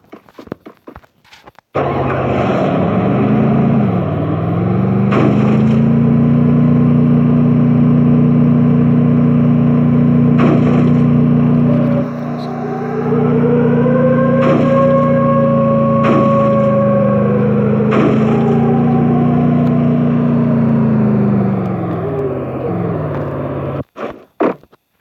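A car engine in the Free Fire video game drones in a steady, loud tone throughout. Its pitch rises and falls as the vehicle speeds up and eases off, with brief clicks over it.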